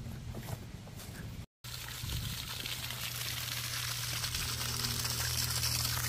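Water running steadily from a repaired pitless-adapter well pump, a constant near rushing wash with a low hum under it, broken only by one short gap.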